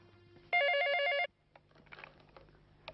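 A telephone bell rings once in a short rapid trill, clear and fairly close, in a quiet indoor room, followed by faint shuffling.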